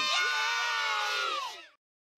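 Crowd cheering sound effect, a sustained burst of excited screaming and whooping that stays loud before cutting off sharply, leaving silence at the end.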